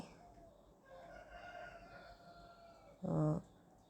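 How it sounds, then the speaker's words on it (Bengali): Chickens and newly hatched chicks feeding on broken rice and paddy grains give soft fowl calls, then one loud, close squawk bursts out near the end. "মুরগিগুলাকে, যে বাচ্চাগুলা ফুটেছিল ওইগুলাকে খুদ দিয়ে দিয়েছিলাম"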